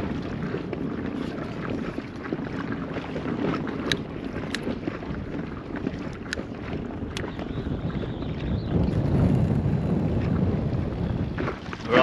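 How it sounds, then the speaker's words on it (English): Wind gusts steadily across the mic of a small fishing boat on Mandurah Estuary, a broad rumbling roar that swells louder toward the end, with no one speaking. "The wind has picked up"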